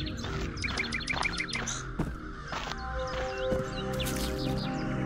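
Large birds in the horror game Amnesia: Enigma give repeated harsh crow-like caws, several rapid calls early on followed by scattered louder cries over a steady ambient background.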